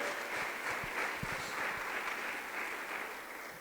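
A church congregation clapping for the Lord, a broad wash of many hands applauding together, moderately loud and slowly tapering off, with no talking.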